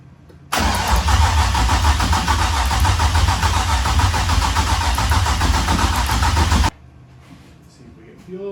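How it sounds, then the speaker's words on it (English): The Drift V car engine is cranked for the first time and catches, running loud and steady for about six seconds before cutting off abruptly, leaving quiet background and faint talk. "let's go ahead and try and crank this thing"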